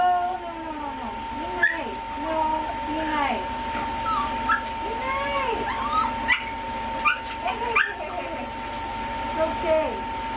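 A pug whimpers and yelps in sharp, high cries during a nail trim at a dog groomer, with snappy bursts between steady whining, while people speak over it throughout.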